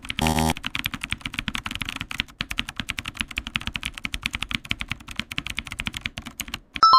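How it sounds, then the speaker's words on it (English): Typing on a computer keyboard, a fast, steady stream of close, crisp key clicks that runs continuously without any talking. "A keyboard is the set of keys we use to type on a computer."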